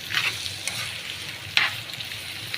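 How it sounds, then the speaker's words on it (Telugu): Radish pieces frying in hot oil in a pan, a steady soft sizzle with occasional brief crackles and stirring scrapes, close and fairly quiet. "ముల్లంగి అయితే బాగా నూనెలో వేయించుకోవాలి, బాగా ఎర్రగా మగ్గనివ్వాలి"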